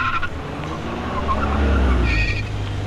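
A car pulls up in a scene from the 2006 Hindi film Baabul: a loud, close, low engine rumble that swells and settles, with a brief tire scrape partway through.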